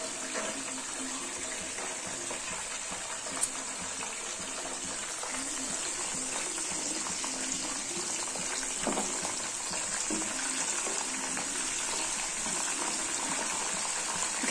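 Peanuts fry in oil for a masala peanut snack, giving a steady, dense sizzle throughout with occasional small pops and stirring clicks.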